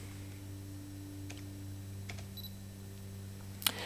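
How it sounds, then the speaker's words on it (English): Canon EOS 550D (Rebel T2i) autofocusing in live view: a very quiet lens motor whir with faint ticks over steady low hum, ending in a sharp click. "you just half press the shutter release to autofocus in live view"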